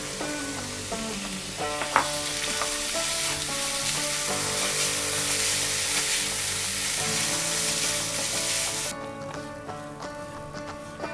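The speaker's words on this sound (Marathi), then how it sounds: "आता ह्याच्यात आपण स्वच्छ धुतलेले वरी तांदूळ किंवा भगर छान अशी परतून घ्यायची" Washed bhagar (barnyard millet) roasting in hot ghee over a medium flame, a continuous close sizzle with scattered crackles and light stirring, loud and even until it drops away near the end.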